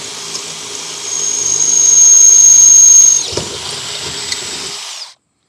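A power drill bores a starter hole for a jigsaw into a NuCanoe Frontier 12 kayak, a steady whining drone that rises into a sustained high squeal before easing off and cutting out abruptly.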